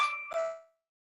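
A second phone rings nearby with one brief electronic chime, two bright tones that quickly fade into silence.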